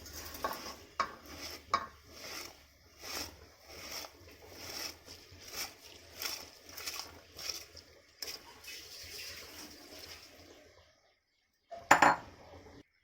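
Ration rice poured into a pot of boiling water, a series of close metallic scrapes and clinks of a pot and utensil in rhythmic bursts, then quiet and a final sharp clink.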